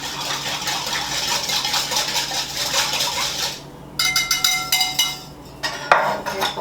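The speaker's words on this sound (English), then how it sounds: "I'm gonna whisk this up now." Apple cider vinegar marinade with salt and pepper is whisked in a bowl: fast, close metallic scraping and clinking, first continuous, then in short bursts after a brief pause.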